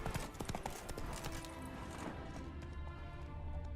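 A horse's hooves clip-clop steadily in The Witcher 3, a dense run of quick hoofbeats that starts loud and busy and settles into a continuous trot over the game's ambient bed, with no talk.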